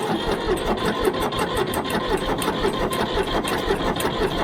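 Starter motor cranking the engine of a 1965 Ford 3000 tractor, a steady fast whirring chatter with regular pulses, loud and close, running throughout without talk.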